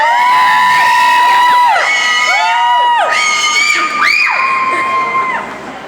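Fans at a cover dance contest scream and cheer loudly, with shrill, overlapping voices that rise and fall in several swells before fading at the end.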